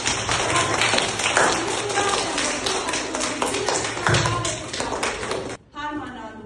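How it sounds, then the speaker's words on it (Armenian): A classroom of students claps for one another, a dense patter of many hands tapping steadily for several seconds before it stops abruptly. "Մեկս մյուսին ծափահարեք։"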